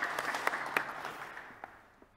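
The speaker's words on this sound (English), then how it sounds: "So give a warm applause to our panelists to kick off." Applause from a conference audience at an artificial intelligence event, a short burst of scattered hand claps that thins out and fades quickly.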